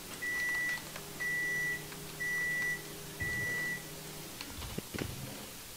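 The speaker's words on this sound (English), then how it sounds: "The microwave getting done." A microwave oven finishing its cycle gives four evenly spaced, steady electronic beeps at moderate distance, followed by a few quiet clunks and rustles.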